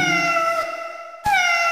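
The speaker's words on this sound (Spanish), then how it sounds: "No, Torito, ese es un gatito" A cat meows clearly twice, each a drawn-out, tonal call separated by a brief pause, loud and close with nothing else around it.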